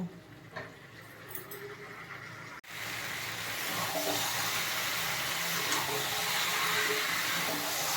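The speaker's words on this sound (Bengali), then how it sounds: "আর মাংসর থেকে তেল ছেড়ে দিয়েছে এবার গ্যাসটা একটু বাড়িয়ে কষিয়ে নেব" Mutton curry being sautéed in its released oil on a gas stove: a few quiet clinks at first, then a sudden loud sizzling hiss that swells and holds steady to the end, close up and without speech.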